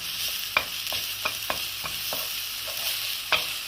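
Onions sautéing in a dry pan with no added fat, a steady sizzle broken by a series of sharp spatula taps and scrapes as they are stirred, no talking.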